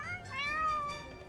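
A cat in The Sims 4 lets out a single drawn-out meow, close and clear, rising and then falling over about a second.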